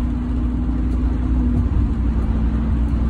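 A car drives along the road with a constant deep engine drone and tire rumble, steady and close, with no acceleration or pauses.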